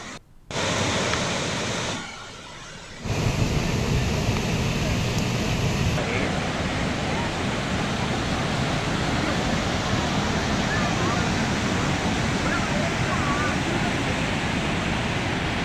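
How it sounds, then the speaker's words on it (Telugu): Floodwater pours down the 70-foot Ethipothala waterfall in Guntur, Andhra Pradesh, after heavy rains, a loud, dense, continuous roar with a brief dip early on. "70 అడుగుల ఎత్తు నుంచి నీరు కిందకు ప్రవహిస్తూ పర్యాటకులను తీవ్రంగా ఆకట్టుకుంటోంది."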